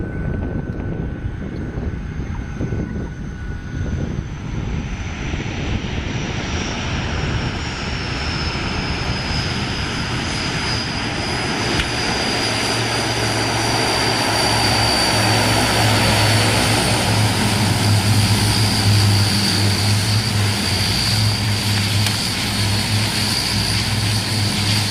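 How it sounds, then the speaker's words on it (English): An airliner's engines roar steadily through an aborted takeoff roll on a runway, the loud, sustained engine noise swelling with a deep rumble in the second half and no talk over it. "This plane was taking off but had to abort its takeoff."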